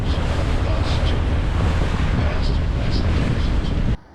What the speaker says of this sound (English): We're getting up to 30 knot winds